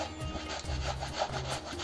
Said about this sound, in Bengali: এখন আমি আমটা ঘষে নেব। এই যে আমি এই ঘষনিটা দিয়ে ঘষে নেব।